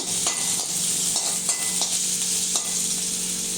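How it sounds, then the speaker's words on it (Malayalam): Chopped garlic and ginger stirred in a hot pan for a prawn roast, a steady loud sizzle with soft scraping strokes of a spoon recurring through it, no voices. "വെളുത്തുള്ളി അര ടീസ്പൂൺ ചെറുതായിട്ട് അരിഞ്ഞത് അതുപോലെ തന്നെ ഇഞ്ചി അതും ഒരു കാൽ ടീസ്പൂൺ ഉണ്ട് ചെറുതായിട്ട് അരിഞ്ഞത് ഇത് ചേർത്ത് ഒന്ന് ചെറുതായിട്ട് ഇളക്കി"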